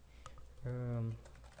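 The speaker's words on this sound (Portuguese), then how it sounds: "vai digitar os dados aqui dentro" Someone types on a computer keyboard while entering work-order data into maintenance management software, soft key clicks tapping steadily at low volume while a person speaks over them.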